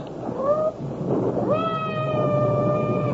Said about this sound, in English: I hope that cat isn't trapped somewhere.